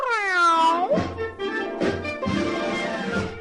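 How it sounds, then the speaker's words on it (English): A cat meows loudly up close, one long rising and falling cry followed by a few shorter, strained meows. "And all his life, whenever Dick heard the secret meow, he would happily shout, "Here comes Ripple-"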